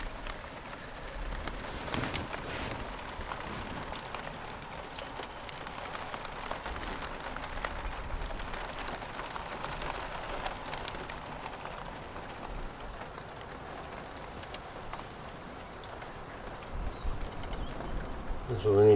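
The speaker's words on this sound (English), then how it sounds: "But of course, it'll have to stop raining." Rain falls outside as a steady, broad hiss that lasts throughout, with someone talking over it.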